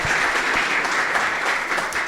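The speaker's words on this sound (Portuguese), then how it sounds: "Os nossos aplausos para a Merivone, gente." Steady audience applause during a podcast taping, a dense, even clatter of many hands clapping close by for a couple of seconds.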